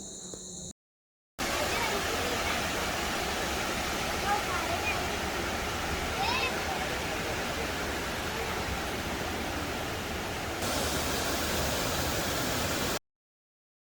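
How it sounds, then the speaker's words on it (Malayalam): Water rushes out through a partly opened shutter at Mangalam Dam in Palakkad, a loud broad roar that holds steady for over ten seconds after a short quieter opening. The roar then cuts off abruptly. "പുറത്തോട്ട് വെള്ളം പോകുന്ന കാഴ്ചയാണിത്."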